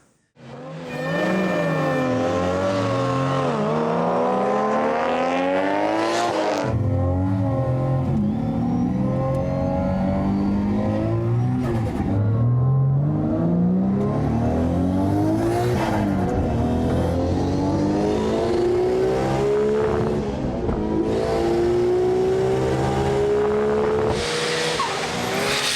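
Tuned Nissan GT-R cars race one-on-one from 0 to 300 km/h, engines screaming through repeated rising gear runs with sharp shift breaks and tire squeal, loud and close throughout.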